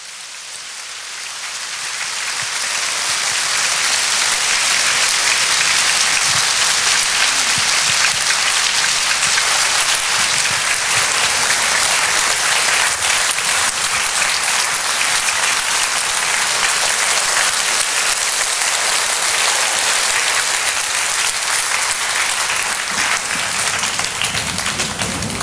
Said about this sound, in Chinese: 有请以热烈的掌声欢迎显扬法师。